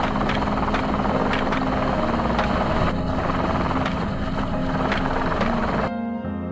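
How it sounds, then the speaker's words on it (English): A helicopter's rotor thumps steadily and loudly nearby, a continuous chopping drone that cuts off abruptly at the end. "Helicopters continuously flew over heavily affected zones to monitor from above."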